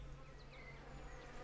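Bees buzz around a beehive in the video game Lumberjack's Dynasty, a soft continuous droning with gliding wing whines passing over a low steady hum, faint and close.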